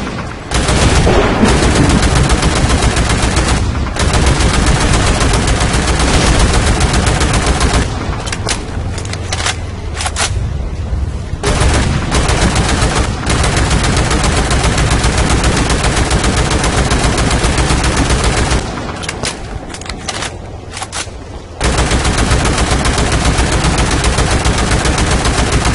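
Heavy rocket barrages from an MRLS launcher in Renegade X roar continuously and loudly, with dense rapid blasts that pause briefly a few times before resuming.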